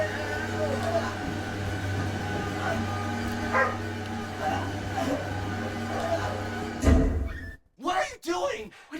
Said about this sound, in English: And the dog is growling too.